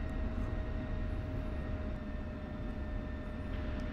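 Aircraft lining up on runway 27 in the DCS flight simulator, a steady engine whine and hum holding constant throughout, moderately faint and alone.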